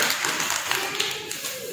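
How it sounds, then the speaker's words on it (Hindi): A group of young children claps for a classmate in a classroom, a quick, dense patter of many small hands that is fairly loud and steady throughout. "ताली बजाओ अर्शिन के लिए।"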